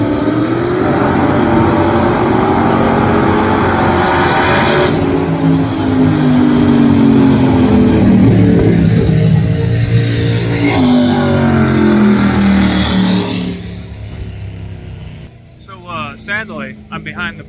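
An offroad-built police car makes a drag strip pass, its engine roaring loud and rising through gear changes before fading into the distance, with people talking nearby.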